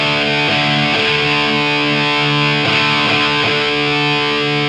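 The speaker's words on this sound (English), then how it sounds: "we're all the way on the bridge pickup, which is the humbucker, just to hear the difference in the tones on that." Donner DST-550 electric guitar played through the bridge humbucker pickup with distortion, loud sustained chords and a few picked accents ringing out, with no voice.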